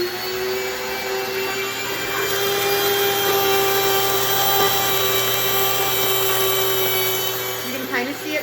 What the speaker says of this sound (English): I'm gonna take you back to my mill, and I'm just gonna show you how to grind it.